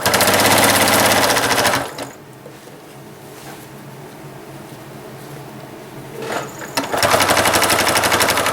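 A sewing machine stitches prairie points onto a quilt, a loud rapid whir running steadily for about two seconds, then stopping, then starting again for a final burst close by.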